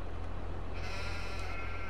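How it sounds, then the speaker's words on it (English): A flock of sheep bleats in Farming Simulator 22, a steady, loud, dense bed of animal calls that swells slightly midway, with no talk. "Hello sheep, how are you doing?"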